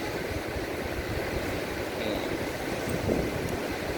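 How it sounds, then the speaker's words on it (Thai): Strong wind blows outdoors at a stray dog rescue centre at a temple near Hua Hin, a continuous loud rushing roar buffeting the microphone throughout. "ลมแรงครับวันนี้คือลมแรงมาก"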